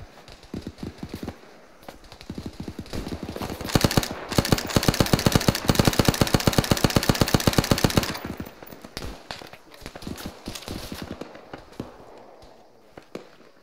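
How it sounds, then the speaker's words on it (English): Rapid automatic gunfire in a video game firefight, a long fast rattling burst swelling loud in the middle and tapering to scattered shots and quieter ambience. "Oh god, they're shooting at me."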